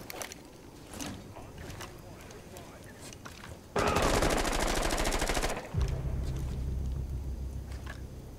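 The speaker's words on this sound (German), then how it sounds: "Soll ich mal einfach mal durch die Fenster von dem Raum schießen?" Sustained burst of rapid automatic gunfire fired through a room's windows in Rainbow Six Siege, loud and dense for about two seconds, followed by a lower rumbling tail, with quieter game noise and voices before.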